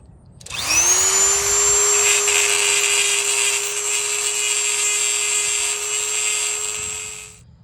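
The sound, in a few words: rotary tool grinding metal smooth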